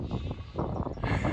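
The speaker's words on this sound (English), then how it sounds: "Here the sheep come." Sheep bleating outdoors while being moved across farm pasture, a loud, dense chorus of overlapping bleats from a nearby flock, continuous with no break.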